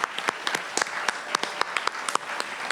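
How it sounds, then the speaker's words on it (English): Sparse, scattered hand claps at an awards ceremony dinner honoring the caterers, a thin round of individual claps with uneven rhythm, moderately close and without talk. "let's give a round of applause to our wonderful caterers"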